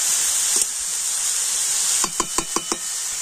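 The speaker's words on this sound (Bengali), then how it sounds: "আর এবার আমি হালকা করে নাড়াচাড়া করে এই সমস্ত সবজিগুলো একটু হালকা করে ভেজে নেব।" Chopped momo filling vegetables stirred in a pan with salt, hissing in a steady sizzle, then a quick run of five sharp spatula scrapes and knocks close by.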